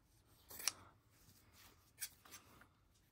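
Scissors snip through a piece of dotted patterned fabric in a quiet room, with one short crisp cut followed by a couple of softer snips.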